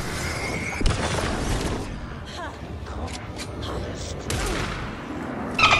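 An enemy named Thornton fires at the player during a boss fight in the video game Alan Wake 2. Several booming gunshots and bursts land over a busy game soundscape, with a player talking over them.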